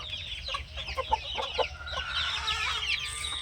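A rooster clucks repeatedly at close range, a run of short throaty notes with a steady rustling farmyard background.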